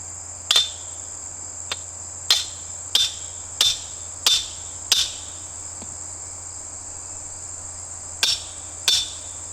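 A maul hammer drives a stake outdoors, with about nine sharp, ringing strikes coming in uneven bursts over a steady chorus of crickets and insects.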